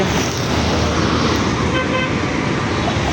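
Cars stream past on a busy road by an elevated expressway and rail line, a dense, steady roar of traffic noise with a faint horn toot, close and continuous.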